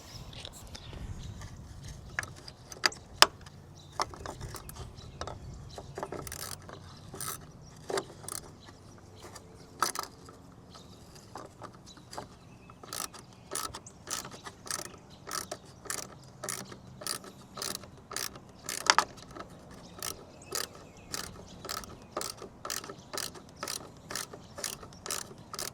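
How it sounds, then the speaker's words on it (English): A stubby 7/16 ratcheting wrench turns a bolt while work is done on a Humvee. Crisp, close ratchet clicks come in quick rhythmic bursts, sparse at first and then steady, repeated strokes with short pauses between them. "7/16 ratcheting that I have is this little stubby guy, but we'll make it work."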